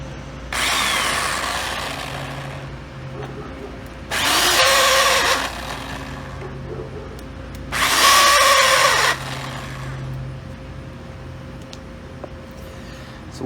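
A small Black & Decker electric trimmer motor whirs in three separate bursts, each a few seconds long with a rough, slightly noisy buzzing hum, and a quiet lull between them.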